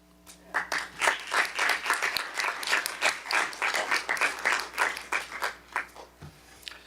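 Applause at a board of education meeting for a school champions team, a roomful of hands clapping steadily for several seconds before fading out near the end.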